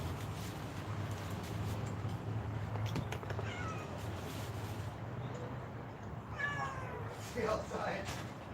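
Cats meowing outdoors, several short rising meows near the end over steady low background rumble, fairly close, with a voice talking around them.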